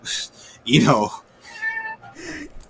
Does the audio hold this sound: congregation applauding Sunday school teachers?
no